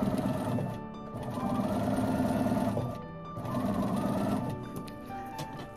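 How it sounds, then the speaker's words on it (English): A sewing machine stitching a quarter inch seam, buzzing steadily and close by in two long runs with a brief slowdown between them. "I just start sewing"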